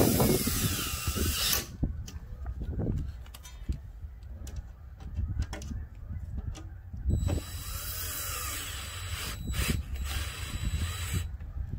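A power drill tightens fittings on a greenhouse in several short, loud whirring bursts, separated by ratcheting clicks and clatter of handling.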